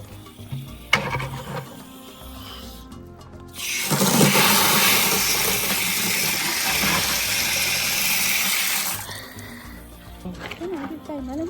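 Water gushes from a sink tap in a campsite washroom at Two Jack Main Campground for about five seconds as a loud, close hiss. Voices and handling sounds come before and after it.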